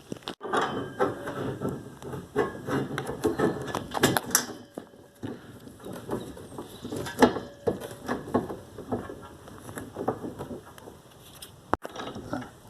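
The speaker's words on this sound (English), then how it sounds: "we're going to tighten with the bigger bolts right into the pole with these supports" Big bolts are ratcheted into the supports of a Lifetime 46-inch basketball backboard pole. Metallic ratchet clicks and clunks of hardware come in irregular bursts, close and fairly loud, with a sharp knock near the end and no talking.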